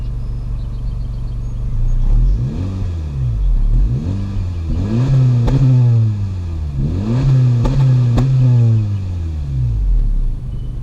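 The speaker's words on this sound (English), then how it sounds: "Down here you'll have your dual exhaust, chrome finished, and it has a nice growl to it." 2018 Honda Civic Hatchback Sport Touring with chrome-finished dual exhaust growling through repeated rising and falling revs, a close, loud, throaty rumble that swells and drops several times in a steady pattern.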